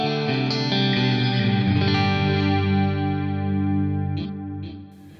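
Electric guitar chords played through a Fractal AX8 delay with a 5 kHz high cut, ringing with sustained distorted tone and soft repeats, then decaying and trailing off near the end.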